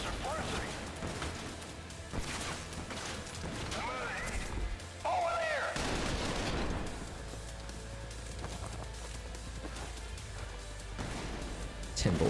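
Shotgun blasts in the first-person shooter game Trepang2, a few loud, sharp bursts spread across the stretch amid other combat noise, with someone talking over much of it.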